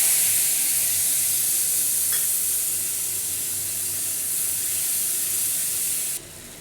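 Spice paste hisses and sizzles in a hot pan of oil while Bengali doi potol is being cooked. A steady, close frying sound plays alone and drops off sharply near the end.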